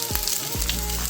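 Onion hits hot oil in an Instant Pot and sizzles steadily, a close, bright crackle with a couple of soft thumps.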